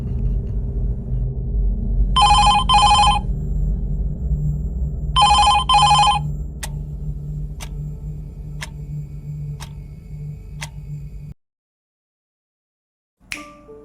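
A mobile phone rings at night in two loud trilling bursts over a low droning hum, followed by a few sharp ticks before the sound cuts to silence and a faint noise returns.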